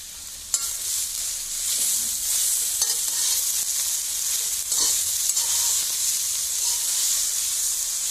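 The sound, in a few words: stirring wilting pathila leaves with turmeric and salt in pan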